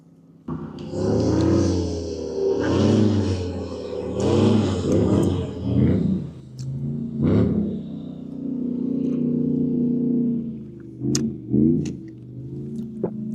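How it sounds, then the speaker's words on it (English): An airboat passes on Lake Okeechobee, its loud engine and propeller roar swelling and fading over several seconds close by, with a brief rev near the end. "Got an airboat going by. Those things are loud."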